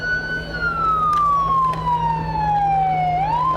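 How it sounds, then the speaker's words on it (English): A black Hooker fire truck's siren in the Pioneer Days parade wails loud and close, its pitch sliding slowly downward before a brief upturn, over a steady engine rumble. "That's a nice black hooker fire truck."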